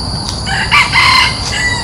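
A rooster crows and a hen clucks close by on a hillside trail, the crow rising in a couple of bursts over steady outdoor background noise.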